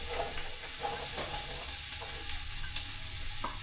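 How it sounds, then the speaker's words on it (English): Onions hit a hot pan and sizzle steadily, with a wooden spatula stirring through them in a few soft scrapes; the frying hiss is fairly quiet and continuous, with no talking. "throw my onions in there first"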